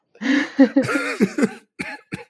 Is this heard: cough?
yes